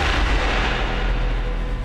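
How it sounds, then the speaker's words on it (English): Starting gun fired at a wheelchair race, a loud, booming report that fills the short moment and rings out with a heavy, rumbling decay, no voices over it. "Wait for the gun."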